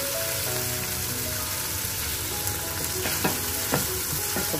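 Onions and green chillies fry in a pan for a Kerala beef curry, giving a loud, steady sizzle close up with a few brief stirring clinks.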